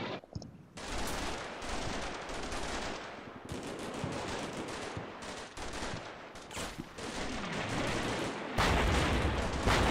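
Mortar fire rages in Combat Mission Shock Force 2 amid an urban firefight, a loud, continuous wash of booming blasts and rattling gunfire with brief dips between volleys.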